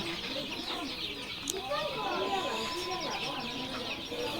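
Tiger and Fayoumi chicks and chickens at a poultry seller peep and chirp in a steady, busy chorus of overlapping calls, close by, with low background noise and a murmur of voices.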